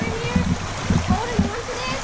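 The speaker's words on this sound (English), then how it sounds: "It's a huge waterfall." Large waterfall splashing at a creek, a steady rushing wash of water with irregular splatter bursts, close and loud.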